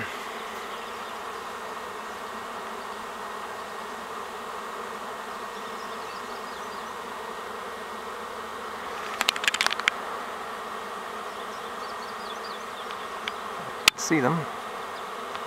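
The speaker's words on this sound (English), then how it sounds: "That's a lot of bees." A swarm of honeybees hums as a steady, faint drone in the open air, with a few brief louder buzzes of single bees passing close and a short spoken phrase near the end.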